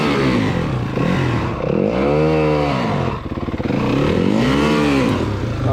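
A custom-built motorcycle meant to rival a KTM, its engine loud and close, rising and falling in repeated revving sweeps with a brief dip midway.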